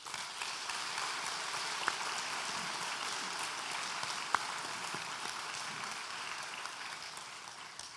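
Large graduation ceremony audience applauding steadily, a dense even wash of many hands clapping in a big hall, sustained at constant level with a couple of sharper claps standing out.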